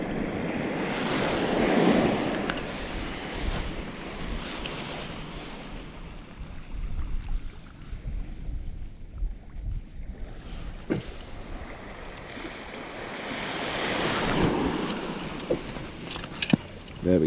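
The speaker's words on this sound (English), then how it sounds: "I've just got to watch out for these little waves coming in." Small waves break and wash onto a UK shore during bass lure fishing, a steady surf rush with wind buffeting the microphone, swelling louder near the start and again toward the end.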